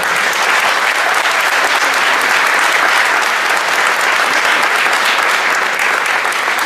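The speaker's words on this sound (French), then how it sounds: "je vous demande d'applaudir le comité directeur et le comité stratégique à nouveau" Loud, sustained applause from a large gathering at the UNCP 2017 tournament event in Paris, honouring the organising committees; a dense, unbroken roar of clapping that stays constant and close.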